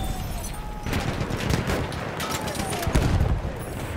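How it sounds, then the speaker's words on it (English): Machine gun fire in Battlefield 1, a sustained rattle of rapid shots with scattered louder cracks amid battlefield noise, moderately loud, with voices shouting in the chaos. "Machine gun!"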